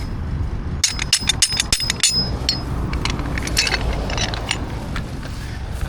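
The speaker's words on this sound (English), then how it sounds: "That's why you have to carry a claw hammer" A steel claw hammer strikes metal on a tow truck while a car is rigged for towing, first several sharp ringing blows in quick succession, then lighter clinks and scraping, close and loud.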